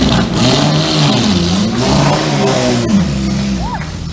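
A Jaguar D-Type sports car at a concours d'elegance, its engine idling and revving in a rough, throaty rumble that rises and falls, loud and close with crowd noise behind it.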